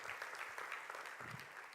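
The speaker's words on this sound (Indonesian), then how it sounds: "Berikan tepuk tangannya buat Tuhan Yesus." Brief burst of applause from a church congregation, many hands clapping together at a fairly quiet, even level throughout.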